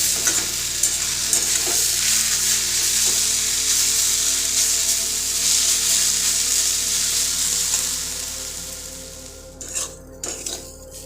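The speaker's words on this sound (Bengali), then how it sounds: "তোমরা এখানে গ্রেট করা আলুটা সাদা তেলেও ভাজতে পারো, কিন্তু সাদা তেলের থেকে ঘি বা বাটার দিয়ে ভাজলে বেশি ভালো হয়।" Grated potato sizzles and fries in ghee in a pan for a potato payesh, a loud steady hiss with occasional stirring scrapes and clinks that end in a few sharp utensil knocks.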